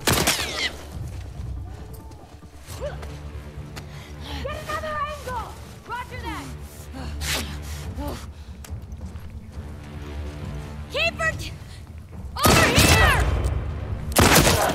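Gunfire in The Last of Us Part 2, scattered sharp shots and bursts mixed with horse hooves and whinnies amid game sounds, while someone talks over the action throughout.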